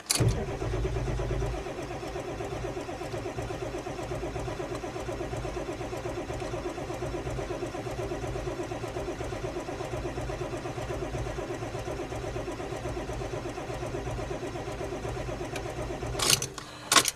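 A car engine cranks on a cold start in a blizzard, with glow plugs apparently failing. It churns steadily and close for about fifteen seconds without catching, then ends in a few louder knocks.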